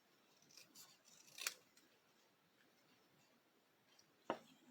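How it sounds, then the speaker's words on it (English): Scissors trim paper for a handmade card, making two quiet, crisp snips a few seconds apart in an otherwise hushed room. "Let's trim this down a little bit more."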